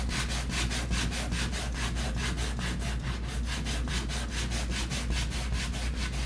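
An aged terracotta flower pot rubbed with heavy 80 grit sandpaper, a close, steady back-and-forth rasp in even rhythmic strokes, about four per second, with no talking.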